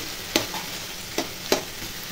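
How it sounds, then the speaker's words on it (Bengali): Potatoes cut into frying strips sizzle in a pan before egg is added, a steady close hiss broken by three sharp scraping stirs of a spatula, with no talking. "আলু ভাজার মতন কেটে নিয়েছি, এখানে ডিম ভেঙে দিয়ে করবো।"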